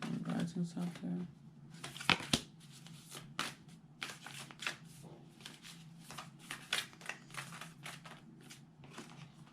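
Tarot cards shuffled and pulled by hand: quick papery riffles and soft slaps in irregular bursts, fairly close and quiet, with brief faint talk near the start.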